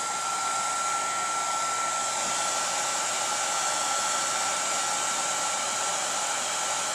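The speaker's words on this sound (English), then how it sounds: "Then I'll grab the heat gun," Heat gun blowing steadily to shrink heat shrink tubing over soldered wires during an arcade monitor repair, a continuous loud whooshing hum with an even fan tone, close and uninterrupted.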